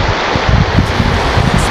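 Roar of waterfalls pouring down from a mountain lake held in a rocky basin, heard as a loud, continuous broadband rush of falling water with no voices.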